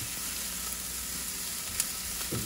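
Onions frying gently in a cast iron pan over medium-low heat for a bison Sloppy Joe, a steady soft sizzle with faint stirring clicks, no voices.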